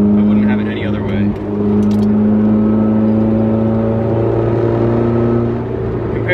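A 1989 BMW M3 engine drones steadily from inside the cabin while driving, a loud constant hum with a brief lift and some rattling, and someone talks over it.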